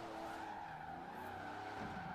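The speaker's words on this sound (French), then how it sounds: "On joue un peu avec le frein à main." Handbrake skid of a heavy Buick Regal GNX in Forza Horizon 4, a brief sustained tire squeal over the car's engine tone, faint and continuous for about two seconds.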